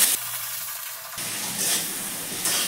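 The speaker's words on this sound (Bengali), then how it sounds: "টমেটোগুলো একটু হালকা ভাজা করে নেব।" Chopped tomatoes fry in hot oil in a home kitchen pan, a steady sizzle broken by short stirring gaps, loud and close with no voices.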